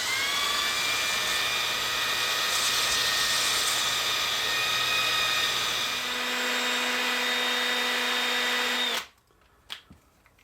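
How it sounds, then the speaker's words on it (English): An electric drill whines at high speed while spinning a maple dowel against sandpaper, a loud, steady motor tone with a shifting pitch that runs for about nine seconds before stopping abruptly, leaving a few faint clicks. "turn the drill on and use a piece of sandpaper to shape the end."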